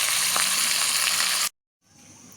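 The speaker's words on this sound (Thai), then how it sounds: "เกิดการทอดปลาส้มในติดกระทะ" Loud, steady sizzling of fermented fish frying in hot oil in a pan, cutting off abruptly into silence before a quieter hiss resumes.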